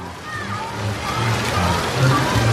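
Water splashes and sloshes steadily from a theme park kid-zone water feature, a continuous wash of spray at moderate distance, with children's voices and people talking over it.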